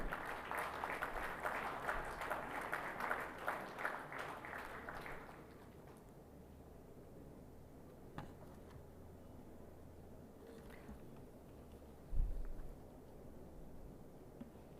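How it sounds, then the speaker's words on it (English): At a maritime week event in India, an audience claps in a faint, distant ripple of applause for about five seconds, then it fades to a quiet hall with only occasional soft bumps. "Keep the applause coming, ladies and gentlemen."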